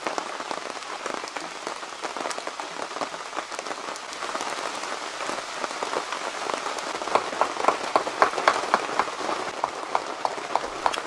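Rain falls steadily in the woods around a tent camp, a dense, continuous hiss of patter with sharper individual drops ticking out more clearly toward the end.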